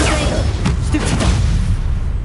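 A Stupefy spell cast in the video game Hogwarts Legacy, a loud booming magical burst with a rumbling crackle that fills the short stretch without any talk.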